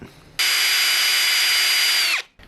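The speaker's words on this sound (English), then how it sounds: "The idea here is to drill into it with a smaller drill bit." A small power drill whines at a steady high pitch for nearly two seconds as it bores into a guitar's wood for fret marker dots, then stops abruptly.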